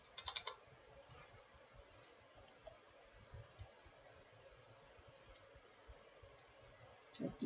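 Quiet computer mouse clicks and keyboard taps while drafting in AutoCAD: a few scattered, soft clicks near the start, middle and end over a low background hum, with no speech.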